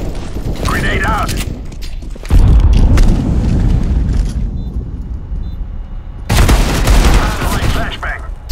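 A loud grenade blast and rapid gunfire from the video game CS:GO fill the clip, with two heavy booming bursts over dense continuous shooting.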